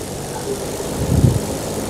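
Propeller warplane engines, including a B-25 bomber and fighters, drone steadily in a multiplayer flight combat game, a low continuous hum that swells briefly midway, with players talking over it.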